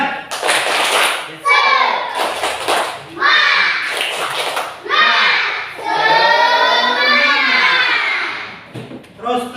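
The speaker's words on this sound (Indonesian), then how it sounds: "Tepuk semangat." A school class performs a rhythmic spirit clap, short loud bursts of group clapping mixed with children's chanting voices in a classroom.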